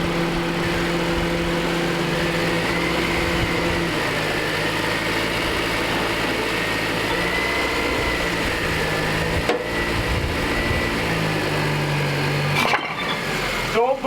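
A Honda Civic Type R FN2 idles and crawls slowly forward at its biting point, a steady low engine drone with a brief scrape or knock near the end; engine noise runs throughout at close range.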